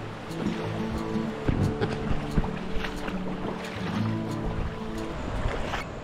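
River flowing through dense forest near a village, a steady wash of moving water with soft splashes and wind, continuous and moderately close, with no talk.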